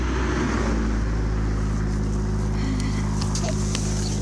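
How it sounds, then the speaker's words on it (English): A car drives along a road past someone walking in a shallow roadside ditch. A steady, fairly loud engine and tire roar fills the clip, swelling slightly with no talking. "there's a car coming"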